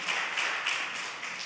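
A church congregation claps in welcome during a Sunday worship service, a dense and even patter of many hands that is fairly loud and unbroken for the whole stretch.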